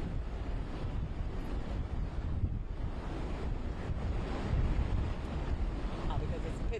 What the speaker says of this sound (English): Windy for sure.